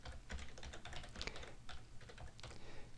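Quiet, steady typing on a computer keyboard while entering a nested IF formula in Excel 2010, a run of soft, close key clicks at an even pace with no talking.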